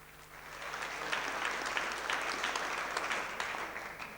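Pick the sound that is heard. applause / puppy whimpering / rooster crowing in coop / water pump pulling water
applause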